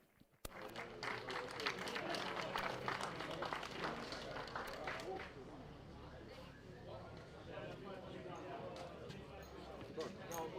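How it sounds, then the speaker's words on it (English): Spectators at a kart race prize ceremony applaud for race Group C. A sudden burst of dense clapping holds steady for about ten seconds, with a public-address voice speaking over it. "please, ladies and gentlemen, applause for race Group C"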